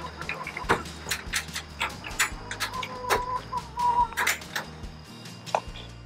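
Chickens at a homestead coop give intermittent soft clucks mixed with sharp clicking and tapping noises, at moderate volume and fairly close, with no speech.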